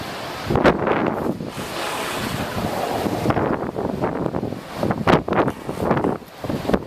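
Strong wind buffets the microphone in steady gusts while ocean surf rolls and crashes on the shore at Cocoa Beach, Florida, loud and continuous with no voices.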